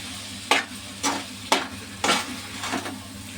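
A spoon stirring bottle gourd curry with chilli powder in a pan, five distinct scraping strokes at a steady rhythm, close and clear over a low background hum.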